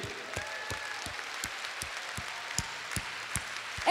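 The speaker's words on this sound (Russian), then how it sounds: "Эти аплодисменты вам!" Sparse applause from a concert audience at a jubilee show, with distinct claps spaced about every half second, moderately loud over a steady hall murmur.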